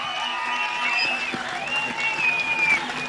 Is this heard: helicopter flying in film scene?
no